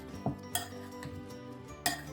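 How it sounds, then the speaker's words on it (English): Leftover pot roast potato salad being stirred in a dish, with a few sharp utensil clinks against the dish scattered across a short, quiet stretch. "Just gently stir, because those potatoes are quite done"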